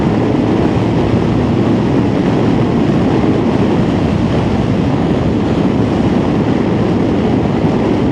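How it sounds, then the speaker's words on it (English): Strong gale-force wind roars over a Kawasaki GTR 1400 motorcycle at speed, a loud, steady broadband rush with no pauses and no talking. "it is blowing a gale out there."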